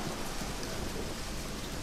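Rain in the video game Deadly Premonition, a dense, even hiss of steady rainfall with a low rumbling undertone, loud and unbroken.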